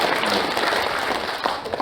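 Audience applause at the founding convention of a national association of Yeosu-Suncheon 10.19 bereaved families, a brief, steady burst of many people clapping in a hall, loud and dense throughout.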